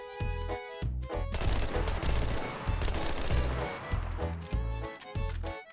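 Assault rifle automatic fire in the shooter game Enlisted comes in loud, rapid bursts, several strings of shots separated by short pauses, with no talking over them.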